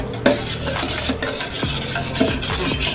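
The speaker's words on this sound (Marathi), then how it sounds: "आता हे सरबत चांगलं मी मिक्स करून घेते" A spoon stirring jamun sharbat with cumin powder in a glass: close, continuous swishing and scraping with a few sharp clinks of metal against the glass, repeated in uneven strokes.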